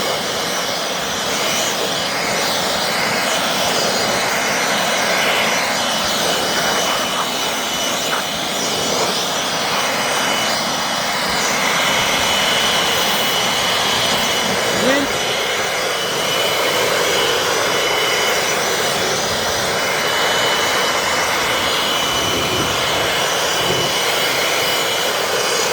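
A Milwaukee compact cordless leaf blower, kept on a tow truck for clearing a flatbed, runs as a steady, loud broadband whoosh for the whole stretch with no talk over it.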